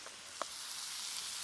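Chicken seasoned with cumin browns in a hot pan, giving a steady loud sizzle that fills the whole clip, with a faint clink of a utensil near the start.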